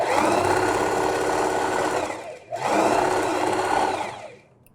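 A sewing machine runs a straight stitch along a dish towel in two steady, fast-whirring runs separated by a brief pause, close and loud, then winds down at the end; no one speaks.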